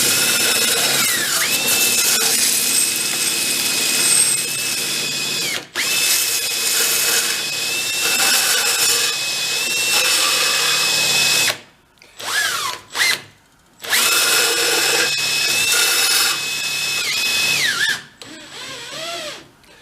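A belt sander runs steadily with a piece of metal pressed against the belt, giving a loud continuous grinding whine that dips and breaks off briefly near the end before resuming.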